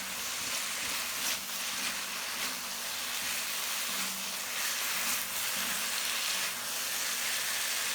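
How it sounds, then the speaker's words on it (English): Steady, loud sizzling hiss of potatoes stir-frying over high heat in a hot wok, with faint scraping and stirring noises underneath, continuous throughout. "After stir-frying over high heat for about 1 to 2 minutes, pour in the prepared sauce."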